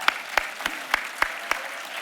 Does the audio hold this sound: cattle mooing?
no